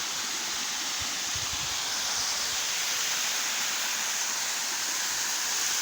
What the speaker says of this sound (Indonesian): Spotnya di air terjun ya